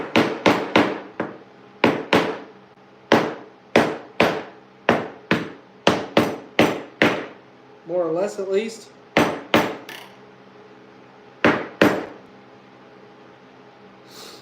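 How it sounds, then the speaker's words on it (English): A hammer taps a glued segmented wooden ring repeatedly in sharp, ringing strikes at an uneven rhythm, close by, with a few words spoken briefly midway. "Then come in with the hammer."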